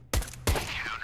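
Two sharp gunshots ring out in the video game CS:GO, each a loud broadband crack with a short ringing tail, spaced about a third of a second apart.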